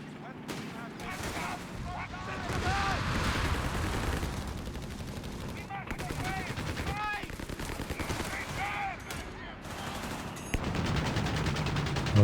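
Rapid bursts of sniper and small-arms gunfire crackle through a Company of Heroes 3 battle, with sharp shots and explosions recurring throughout while a commentator talks over the action.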